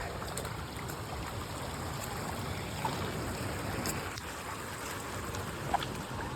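River water flows below Kalu waterfall at Malshej Ghat, giving a steady, even rush of moving water from beginning to end, with a few faint knocks and splashes on top.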